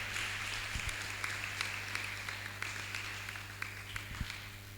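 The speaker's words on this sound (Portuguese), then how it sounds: "Você pode aplaudir pela vida das nossas palestrantes," Scattered applause from an audience after a church talk on unequal yoking, a steady patter of claps with a low hum underneath, moderately distant.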